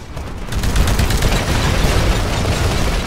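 Explosions and rapid gunfire from the video game Titanfall make a dense, loud wall of booms and crackling shots that continues without pause throughout.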